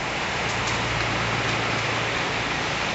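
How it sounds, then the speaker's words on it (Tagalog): Steady rain hisses continuously, a dense, even wash of noise with no voices, close and fairly loud throughout. "Ulan na."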